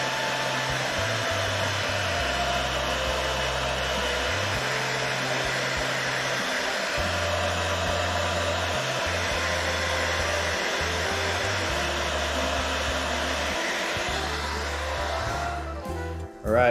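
A blow dryer dries paint on a crankbait lure with a steady, close roar of air and motor. The pitch steps between settings several times before the dryer cuts off at the end.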